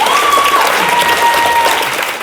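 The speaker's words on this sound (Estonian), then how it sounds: "Daamid ja härrad, teeme suure aplausi Alexile." A studio audience on an Estonian dating show gives loud, dense applause for Alex, sustained clapping throughout with a faint tonal whistle drifting above it.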